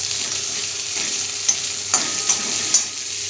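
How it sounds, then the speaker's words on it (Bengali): Onion and two split green chillies fry in hot oil with a bright, constant close sizzle and a few light scraping stirs, no voices. "তো এটা পেঁয়াজটাকে হালকা আমি ভেজে নিয়েছি। এর মধ্যে দিয়ে দিলাম দুটো লঙ্কা ফাটিয়ে।"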